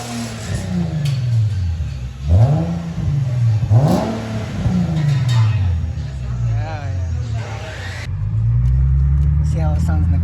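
An Infiniti G37 fitted with a new modified exhaust revs in repeated rising and falling pulls, loud and close, with people talking over the engine throughout.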